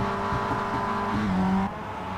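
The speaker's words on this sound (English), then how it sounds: "Oh, the engine's beginning to rev up a bit. You can hear those little Miatas start to rev." Mazda Miata race cars in an Advanced Mazda Cup race at Circuit Gilles Villeneuve, engines droning steadily with one note climbing in pitch as it revs, then easing off near the end.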